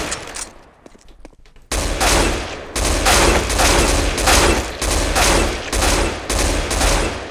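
AK-47 rifle fire in Counter-Strike: Global Offensive, a loud sustained hip-fire burst followed by repeated short tapped bursts in a steady rhythm, close and alone after a quieter opening.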